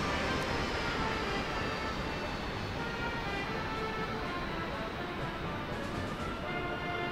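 A jet engine winds down steadily in a DCS World cockpit, a broad constant roar with faint whining tones, loud and close, with no other sounds over it.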